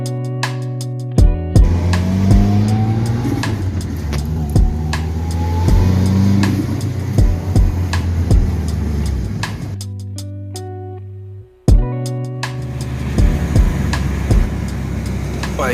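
A Mitsubishi EVO 9 fitted with new coilovers rumbles close by at a steady engine drone, with one rising rev partway through. A brief dip in sound is followed by sharp clicks and knocks, and the engine returns.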